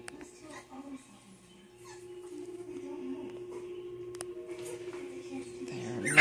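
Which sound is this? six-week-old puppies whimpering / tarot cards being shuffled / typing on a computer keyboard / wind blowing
six-week-old puppies whimpering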